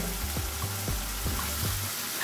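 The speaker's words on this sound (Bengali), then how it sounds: "আমি মশলাকে কষিয়ে নিচ্ছি, টমেটো আদা পেস্টটাকে" Tomato and ginger paste sautéing with spices in a pan for a vegetarian taro curry, a steady sizzle broken by a few soft stirring scrapes, close and alone.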